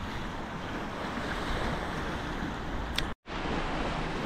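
Sea waves washing in along a path beside a sandy beach in Mersin, a continuous soft surf with wind buffeting the microphone, briefly cutting out near the end before resuming.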